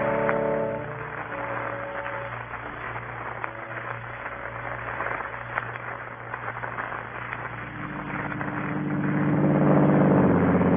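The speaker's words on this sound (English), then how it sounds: "I got up and went over to the car and drove off." A Daimler car engine turns over, runs and rumbles in a radio drama effect, with a steady low mechanical drone that swells louder toward the end as the car drives off.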